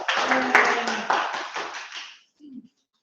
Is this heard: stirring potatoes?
no